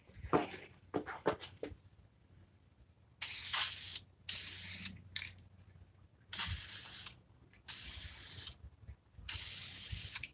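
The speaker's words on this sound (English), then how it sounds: "as you work your can around the object you're painting or what you're spraying" A spray paint can hissing out paint onto shower trim in repeated bursts. Short rapid puffs come first, then several longer, steady, loud sprays of a second or so with brief pauses between them, close up.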